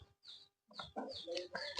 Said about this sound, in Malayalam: അങ്ങനെ കോഴിയെല്ലാം വന്നിട്ടുണ്ട് കേട്ടോ തള്ളയും കുഞ്ഞുങ്ങളും ഒക്കെ ഉണ്ട്